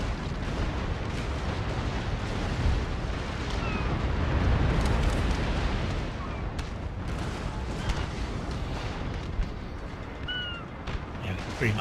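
Cannons fire round shot at an enemy ship in Napoleon Total War, a naval battle of sailing warships with repeated deep booms and rumbling blasts over a continuous roar of battle.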